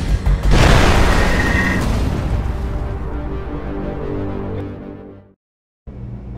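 A loud, booming explosion in the video game Gangstar Rio: City of Saints bursts in and rumbles on for several seconds, then cuts to brief silence before low rumbling resumes.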